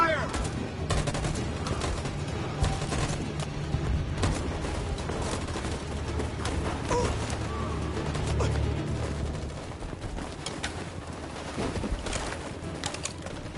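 Dense, continuous gunfire crackles through a battle scene in the Detroit video game, with bursts of overlapping shots and booms throughout, sustained and loud with no pause.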